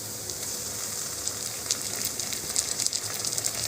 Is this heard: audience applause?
no